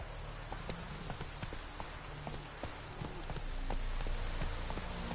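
Horse Roach's hooves in The Witcher 3 clip-clopping at a steady trot, close and fairly loud, over a background of rain-like patter and game ambience.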